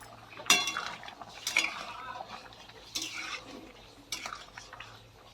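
Curry being stirred in a pot, with a spoon clinking and scraping against the metal in a few separate bursts over a low background hum.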